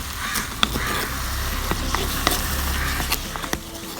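A mango dish is stirred with ground paste in a pan over a village kitchen fire, with steady sizzling and scraping and a few sharp utensil clicks, close and moderately loud, birds cawing faintly behind.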